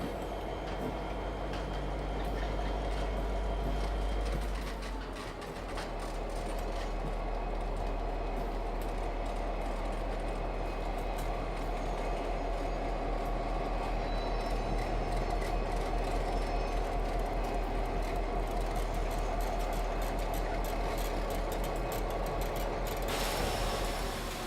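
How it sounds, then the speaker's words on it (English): A freight train sets back slowly through an unloading shed toward a siding, giving a steady, loud rumble of rolling wagons with low engine drone and metallic squeal throughout, with no talk. "the train sets back through the unloading shed into the first siding where the train is divided"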